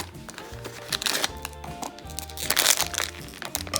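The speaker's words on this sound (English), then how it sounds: "It's really hard to open these taped boxes." A taped cardboard box holding a Spyro mystery mini figure from Kidrobot being pried open by hand, with close, loud crinkling, cracking and tearing of cardboard and tape in irregular bursts and no talk.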